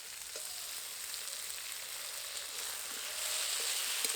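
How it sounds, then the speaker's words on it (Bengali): Chopped tomato frying with onion, ginger and garlic in a pan for a sour jackfruit dish, a soft steady sizzle that grows slightly louder toward the end, with faint stirring and no voices. "টমেটোটা একটু নরম হওয়া পর্যন্ত ভালো করে নেড়ে ছেড়ে নেব"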